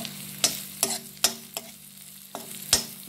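Curry leaves crackle in a kadai during a prawn fry, with a steady low sizzle broken by about six sharp stirring scrapes at irregular intervals, close and clear, no voices.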